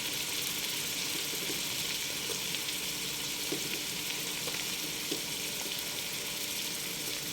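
Mint, coriander and green chillies fry in a pan with a dense, continuous hiss of hot oil, steady and close with faint occasional stirring taps.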